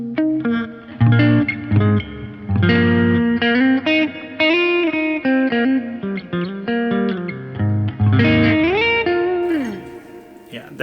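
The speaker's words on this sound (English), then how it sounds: "That's my bass sound" An electric bass plays a slow riff through heavy reverb, each note ringing out and trailing off, with a gliding slide near the end.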